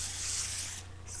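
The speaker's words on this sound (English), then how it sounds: "we're gonna spray a little bit of non-stick cooking spray" Canola oil non-stick cooking spray hissed onto a pan for pancakes, one steady close spray burst followed by a brief second puff.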